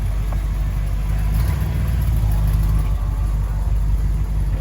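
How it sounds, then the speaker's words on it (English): A Corvette pulls away from a car show, its engine a steady low rumble that holds at a constant level across the stretch, with no speech over it. "Guy's leaving in his Corvette."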